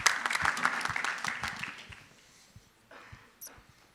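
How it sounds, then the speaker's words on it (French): Applause from the audience at a start-up pitch event, brisk clapping that thins out after two seconds into a few scattered claps, with quiet room noise at the end. "On peut l'applaudir."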